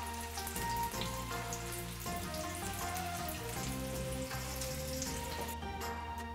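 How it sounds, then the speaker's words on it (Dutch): Japanese meatballs stuffed with Brussels sprouts fry in a pan, a quiet, steady crackling sizzle with small pops, close but soft, no voices. "Ik ga nu de bolletjes in de pan zetten."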